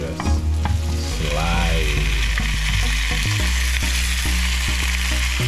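Onions caramelize in a frying pan for liver and onions, sizzling loudly and steadily close up, with occasional scrapes and taps of a utensil and a low hum underneath.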